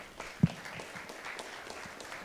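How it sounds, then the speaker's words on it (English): Audience applause welcoming a speaker at an event stage, a fairly quiet, steady spatter of clapping with one sharper clap standing out near the start. "Can we please have a loud round of applause for Mr. Rahul Mamman"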